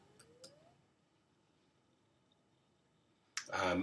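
A few quiet computer mouse clicks come early, sharp and brief, in a hushed room while setting up a website, and then a voice begins speaking near the end.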